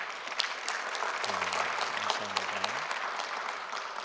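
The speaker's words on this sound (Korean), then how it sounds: "우리 주님께 영광의 박수 드리겠습니다." A church congregation at an Easter dawn service claps steadily in sustained applause while a low voice briefly speaks or hums underneath midway through.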